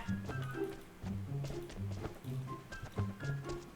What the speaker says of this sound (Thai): เฮ้ย เสียงเท้าอีกแล้ว